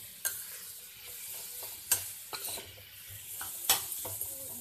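Close stirring and scraping in a hot pan as mooli paratha filling roasts, with a soft sizzle underneath and a few sharp utensil clinks against the metal.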